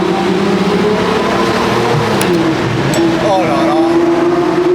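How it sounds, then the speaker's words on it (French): A Lamborghini Murciélago LP-580 V12 with a manual gearbox, held at 4000 rpm in a tunnel, gives a loud, steady, resonant drone that stays close and continuous throughout. A voice briefly exclaims over it. "À 4000 tours, ça fait ce bruit-là, mais c'est presque un bruit de Zonda en fait."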